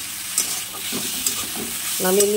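Greens sizzle in a wok in a short burst of frying noise, with a brief tonal clink or scrape near the end.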